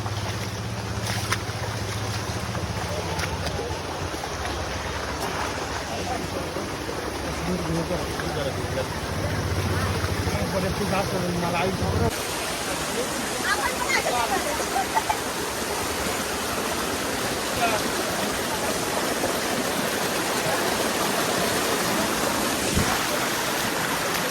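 Water rushing steadily along the Malanggad hiking trail, a continuous broad roar heard close by, with a shift in the background partway through and occasional voices from hikers mixed in.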